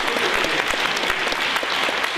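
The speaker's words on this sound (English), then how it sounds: "Give him a round of applause." A lecture audience at a pro-European Union celebration event gives a sustained round of applause, dense steady clapping filling the whole stretch with no speech over it.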